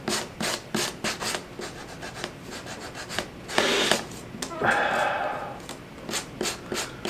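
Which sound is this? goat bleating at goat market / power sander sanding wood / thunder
power sander sanding wood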